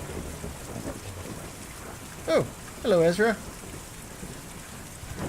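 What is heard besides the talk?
heavy rain in a video game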